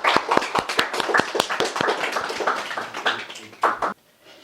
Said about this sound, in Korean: 다윗과 우리 찬양팀을 위해서 박수 한번 쳐주시죠